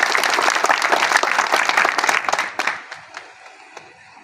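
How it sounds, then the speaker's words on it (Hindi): A crowd at a National Safety Week event in Jamnagar breaks into loud, dense applause that holds steady for a couple of seconds, then thins out and fades to a few scattered claps. "सर प्लीज हमारे जोरदार तालियां बजाएं।"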